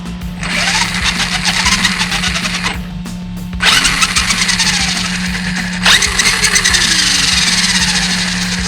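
A repaired Traxxas Slash brushless RC car motor whirs loudly up close in several bursts, starting, stopping and spinning up again with a high electric whine.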